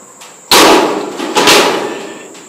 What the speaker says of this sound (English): But it does punch the holes